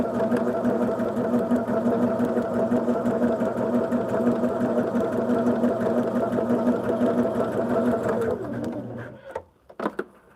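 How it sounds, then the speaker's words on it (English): A sewing machine runs a line of stitching, a steady close mechanical whir with a fast, even rhythm that stops near the end, followed by a few soft handling knocks. "I'm going to just run this line of stitching out here"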